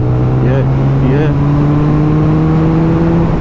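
Steady engine and exhaust drone with a low rising tone as a Suzuki Hayabusa motorcycle accelerates on an expressway, the revs climbing smoothly and staying loud throughout.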